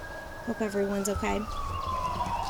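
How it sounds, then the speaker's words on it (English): A police car siren passes through quiet countryside, a steady wail gliding slowly downward in pitch, while someone speaks briefly over it. "Now I hear a police car coming."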